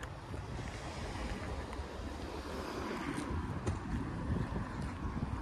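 Cool wind blows steadily outdoors in Finland near a bus stop, a continuous loud rushing buffet across the microphone with no pauses.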